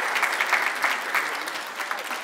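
Audience applauding the mayor of Brampton at a public event, a dense, steady wash of many hands clapping at close range with no voices over it.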